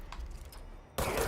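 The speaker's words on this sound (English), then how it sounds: "You're shooting me." Burst of video game gunfire, a dense broadband volley erupting suddenly near the end after a stretch of faint, scattered shots.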